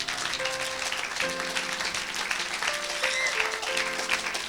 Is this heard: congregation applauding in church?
yes